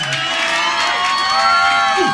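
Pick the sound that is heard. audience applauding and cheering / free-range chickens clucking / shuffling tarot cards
audience applauding and cheering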